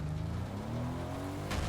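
Car driving in the video game Fortnite, a continuous engine drone with a slowly rising pitch over less than two seconds, steady and close with a faint burst of noise near the end.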